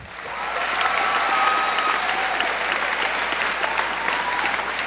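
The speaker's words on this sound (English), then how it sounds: "giving them another round of applause" Sustained applause from a graduation ceremony audience at a high school, loud and dense clapping from many people that swells, then holds steady without speech.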